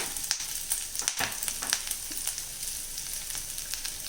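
Drumstick leaves wilting in a pan give off a bright, continuous sizzle, broken by quick scraping stirs of a spoon. The sound is close and steady, and no voices are heard.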